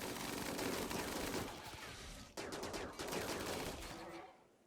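Minigun fire in RimWorld rattles as continuous rapid bursts, dense and loud, briefly cutting out midway before resuming and tailing off at the end.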